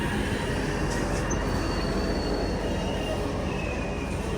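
A DEMU train pulls into Tiruchirappalli station with a loud, steady rumble of rolling stock and a thin squeal of wheels on the rails, continuous and close for the whole stretch, with no voices.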